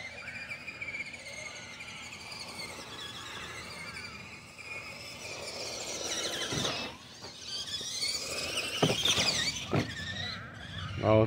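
A pair of small 1/18-scale LaTrax Teton 4x4 RC trucks on a maiden run whine and buzz with high electric motor pitch, rising and falling as they accelerate, with sharp bursts and squeals toward the end.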